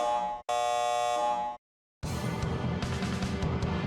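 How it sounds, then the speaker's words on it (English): An alarm system activates in the Star Ocean First Departure R video game: two loud, harsh buzzing tones broken by a brief silence, followed by a dense, clattering electronic alarm. "Warning. Activating alarm system."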